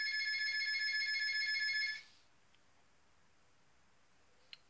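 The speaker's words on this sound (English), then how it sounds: "Sorry guys, my phone, those darn phones, house phones" A house phone rings with a steady electronic trill for about two seconds, then stops, leaving a quiet room.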